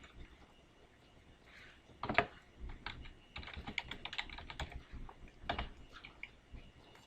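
Someone types on a computer keyboard at close range, with irregular clusters of crisp key clicks and a few louder presses between brief pauses.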